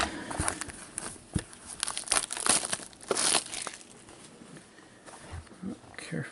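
Crinkling and tearing of a foil trading card pack wrapper being worked open with gloved hands, close and fairly loud, in several bursts of rustling.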